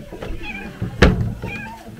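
A cat meows indoors in a household, a couple of short calls amid background room noise and faint voices, with a brief thump near the middle.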